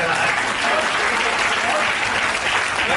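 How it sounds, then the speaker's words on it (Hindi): Audience at a poetry recitation applauds, an even, dense burst of clapping that stays loud and close for the full three seconds. "इतनी देर तक तालियां हमें जिंदगी में पहली बार मिल रही हैं"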